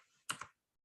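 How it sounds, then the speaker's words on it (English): A mechanical keyboard gives a short, close burst of two or three crisp key clacks in an otherwise quiet room. "I like the mechanical keyboard, by the way."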